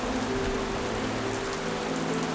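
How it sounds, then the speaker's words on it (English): Steady rain falls near a kingfisher nest, a dense constant hiss of drops on surfaces, close and unbroken with no voices. "The rains continue."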